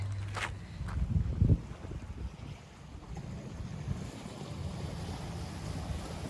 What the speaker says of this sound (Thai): บรรยากาศทะเลค่ะ